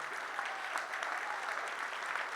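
At an awards ceremony, an audience claps for a big band: a steady, even patter of applause, fairly faint and distant.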